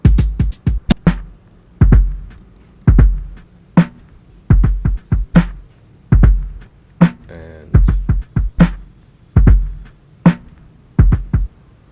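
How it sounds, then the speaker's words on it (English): Punchy, heavily processed drum hits thump in a steady groove, deep booming kicks with snappy transients and a brief swooshing effect midway, loud and without voices. "that's the drums with the effects"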